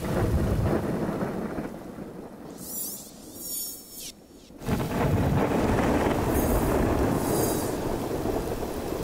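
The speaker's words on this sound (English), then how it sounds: "And then I added the Electric Storm from Icarus," Electric Storm synth patch from the Icarus synthesizer, a rumbling thunder-like wash of noise that thins into a sparse, ringing crackle, then surges back into a loud, dense roar.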